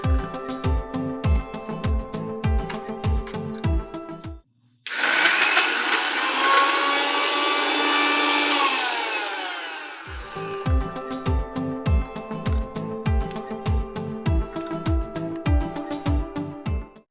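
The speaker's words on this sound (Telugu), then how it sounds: "మిక్సీ వేసేసేయండి." A kitchen mixer grinder blends ridge gourd peel chutney, Andhra style, in rapid rhythmic pulses, then runs continuously for several seconds as a loud whirring churn that winds down before the pulsing resumes.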